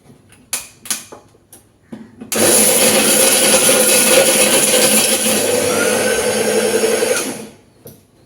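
An electric mixer grinder whirs loudly and steadily for about five seconds as it grinds whole spices (cloves, cinnamon and black peppercorns), starting abruptly after a few light knocks and then winding down at the end.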